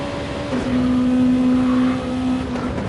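A race car engine on a lap in a racing video game holds a steady high drone with a strong sustained tone, loud and continuous, rising slightly before settling, with no talking.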